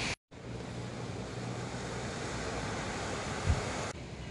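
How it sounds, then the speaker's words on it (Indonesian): Ocean waves wash onto Tanjung Aru beach in a broad, steady roar of surf mixed with wind buffeting the microphone, holding level throughout with one brief thump near the end. "Tengok dia punya ombak."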